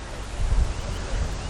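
Wind gusts across a golf course, a brief rough rumble buffeting the microphone at close range.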